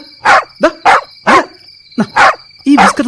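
A puppy in a radio drama scene barks loudly and close, a run of about seven sharp yips and barks in uneven bursts, with a steady high tone running underneath.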